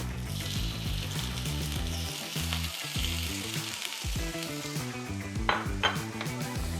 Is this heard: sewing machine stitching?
no